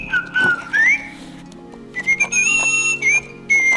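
A Little Live Pets toy bird sings when petted, giving bright, warbling electronic whistle chirps in short bursts with gaps between, close and clear with no talking.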